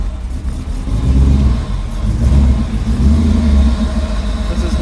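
A pickup truck engine revs loudly at close range in three or four surging bursts of deep rumbling that rise and fall over steady running. No one talks.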